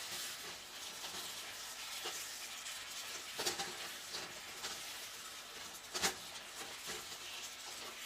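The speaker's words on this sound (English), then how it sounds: "cook until all of your meat is brown, or in this case, medium rare" Steak stir-frying in a pan with soy sauce and salt gives a steady, moderately faint sizzle, broken by a few sharp scrapes and clacks as the meat is pushed around.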